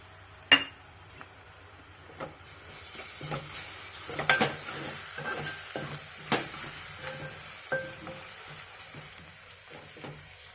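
Ginger paste frying in a pan for a potato tomato curry, a soft steady sizzle with occasional clinks and stirring taps of a spoon against the pan.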